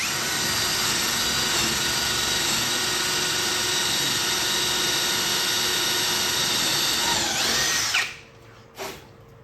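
A power drill whines steadily and loudly at close range for several seconds, then spins down and stops, followed by a short final burst.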